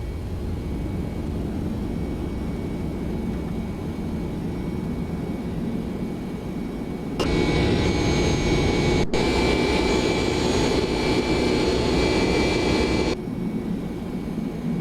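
Boeing 767 jet engines climbing after takeoff in the X-Plane 11 flight simulator, a steady roaring engine drone that grows louder and brighter for several seconds before settling back.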